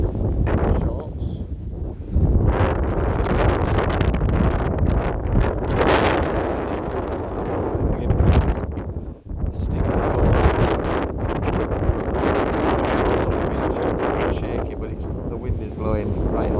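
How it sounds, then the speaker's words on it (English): Strong wind buffets the microphone on a beach at Corralejo, Fuerteventura, a loud continuous roar with gusting surges and distant surf beneath, running throughout with a short dip midway. "The wind is blowing right onto it. Well, there you go, a windy day at the beach."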